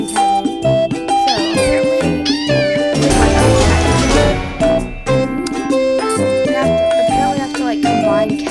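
Cartoonish cat meows repeat rapidly over a bouncy musical backdrop in the Cat Condo video game, loud and bright, with a dense burst of overlapping meows in the middle.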